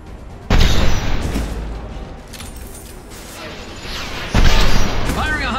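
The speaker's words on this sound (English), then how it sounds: "Firing a high impact shot." A high impact shot fires in the Mass Effect video game, two heavy booming blasts roughly four seconds apart, each with a sharp onset and a rumbling decay, between stretches of quieter ambient game noise.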